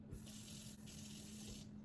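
Tap water runs into a kitchen pot measured out for jasmine rice, a steady splashing stream heard close and fairly quiet, pausing briefly midway, with no talking.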